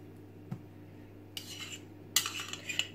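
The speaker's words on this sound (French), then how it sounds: "Là je vais étaler le beurre." Butter being spread across a large rectangle of rolled-out cinnamon roll dough with a utensil, a few soft smearing scrapes and light clinks in a quiet room, close but faint.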